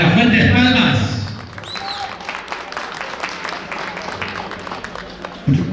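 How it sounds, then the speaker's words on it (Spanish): Guests at a baptism celebration clap for an invited speaker, a sustained round of applause following a loud announcing voice, with a bit of crowd noise and a brief sound at the end. "a quien también la recibimos con las fuertes palmas"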